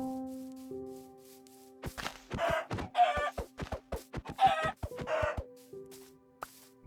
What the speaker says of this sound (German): Da haben wir noch 2 Hühner.